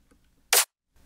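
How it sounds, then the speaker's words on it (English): A single Sultan clap sample heard as one sharp, bright burst of noise with a quick snap, loud and isolated against near silence apart from faint background blips before and after. "for the clap, I'm using a Sultan clap for the transient"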